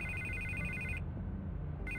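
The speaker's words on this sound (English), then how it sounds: "I can't get the phone to stop ringing." A telephone rings in a Batman video game, a bright electronic trill that sounds for about a second, pauses, then starts again, over a low hum of background music.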